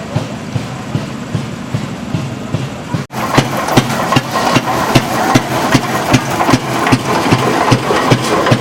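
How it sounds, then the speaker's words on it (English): A steam-powered fire engine pump chugs at an engine show, a steady rhythmic beat of strokes with a brief break around three seconds, then resuming louder and close. "It's a fire engine, and the pump is run off of steam"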